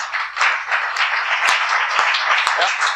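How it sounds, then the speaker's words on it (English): Short burst of audience clapping after a presentation on missing middle housing, dense and fairly loud, with a few sharper individual claps standing out. "Round of applause for Andy"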